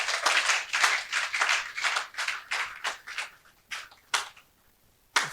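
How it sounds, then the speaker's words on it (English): A round of audience applause that starts full and then thins out into scattered, separate claps, fading to a few last isolated claps near the end. "can I hear another round of applause?"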